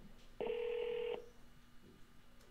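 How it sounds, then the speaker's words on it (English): A phone rings during a live show, heard as a single short electronic tone lasting under a second against a quiet background. "Phone's ringing when I'm trying to make calls"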